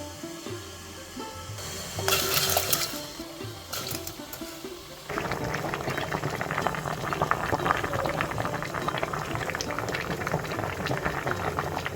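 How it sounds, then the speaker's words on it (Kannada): Pieces of ash gourd boil in a pot with a steady bubbling churn that grows fuller and denser partway through, after brief clinks at the start, heard close with no talking. "ಇನ್ನೀಗ ಬೇಯಲಿಕ್ಕೆ ಹಾಕ್ತೇನೆ"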